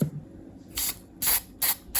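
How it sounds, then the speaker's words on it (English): Three short bursts of white spray paint hiss out onto an OFNA Mutilator nitro RC car in a steady rhythm, close and loud, separated by brief pauses. "Let's do the spray job, guys. Spray job time."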